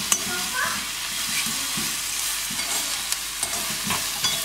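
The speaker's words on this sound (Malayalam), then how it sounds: "ബ്രൗണായി വരുന്ന ഉള്ളി" Browning onions for a simple roast sizzle loudly in oil in a pan, a dense, constant hiss with repeated close stirring scrapes and occasional clicks of the utensil.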